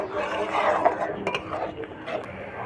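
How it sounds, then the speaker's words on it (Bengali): Spices are stir-fried in a pan for masoor dal with egg, with a spoon clinking and scraping against the metal in irregular strokes over a soft sizzle, close by. "দিয়ে এবার আমি এই মশলা খুব ভালো করে কষাবো।"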